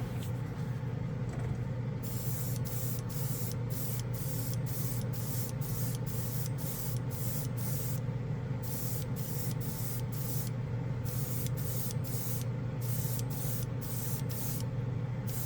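Tamiya semi-gloss paint spraying from an aerosol can in repeated short bursts, a close hissing rhythm of roughly one-second blasts separated by brief pauses over a steady background hum.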